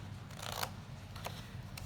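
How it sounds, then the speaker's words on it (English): Scissors snip a paper plate in a few short, crisp cuts spaced apart, close but quiet over a low background hum. "Exactly where you have drawn the line where you're going to cut your paper plate"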